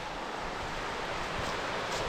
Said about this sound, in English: But we have a creek flowing right beside us.